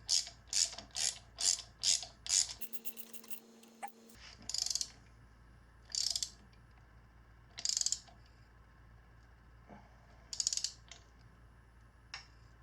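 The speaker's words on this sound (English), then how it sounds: "I just use a small ratchet here so I don't make it too tight." A small ratchet tightens a spark plug on a Kawasaki KLX140 motorcycle engine, clicking in quick bursts of rapid pawl ticks, pausing, then resuming in spaced bursts, close and clear.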